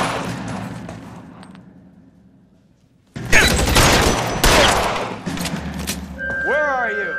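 Gunfire in the L.A. Noire video game: a dense burst of loud close shots after a fading lead-in and a short silence, with game sound continuing beneath and a whooshing tone near the end.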